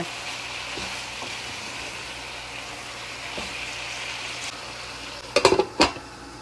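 Shrimp, pre-fried with spices, is added to amaranth stems frying in a pan. A soft steady sizzle runs under a few brief loud clatters of utensil against pan near the end, with no talking.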